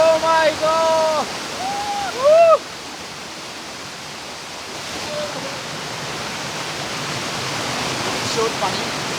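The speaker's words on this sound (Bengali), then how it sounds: "ঝর্ণার পানি।" A Bangladeshi waterfall, Jade Bhai falls, pours with a constant loud rushing roar. Excited voices speak over it for the first couple of seconds, then the water continues alone, steady and near.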